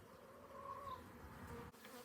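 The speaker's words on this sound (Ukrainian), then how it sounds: "Бджоли працюють, активні." Honeybees buzz around a nucleus hive in an overwintered apiary. The buzzing is a steady, faint, continuous hum with no voices.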